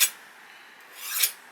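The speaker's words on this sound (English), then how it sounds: "going forward against the blade edge, just going to take off those burrs that we've just created" Two short rasping strokes of a sharpening tool drawn forward along a kitchen knife's edge to remove burrs, close and fairly quiet, one at the start and another just before the end.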